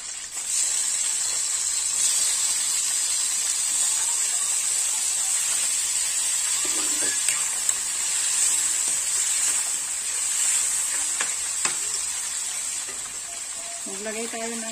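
Ararawan and onions sizzle and fry steadily in a pan while being stirred, a continuous loud hiss with occasional scraping clinks from the utensil.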